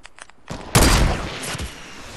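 Video game gunfire bursts in loud and close, a sharp crack followed by a sustained rattle of shots that keeps going through the rest of the moment.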